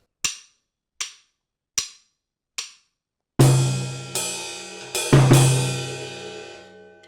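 Four crisp, evenly spaced snare-like hits, then a drum kit with cymbal crashes and low toms rings out loudly with heavy sustain and no talking, playing a measure of a song.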